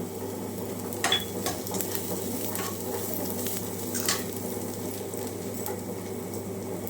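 Coriander, black pepper, garlic, ginger and cumin are dry-roasted in a pan over low heat, giving a soft, faint crackle with occasional light scrapes and taps of a spoon against the pan.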